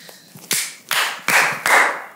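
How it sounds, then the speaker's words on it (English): Four sharp hand claps at a steady, slightly quickening rhythm, loud and close with a short ring after each, marking a cut on a set, with no talk. "and then you just clapped"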